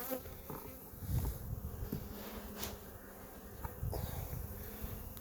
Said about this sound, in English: We got a good cluster of bees going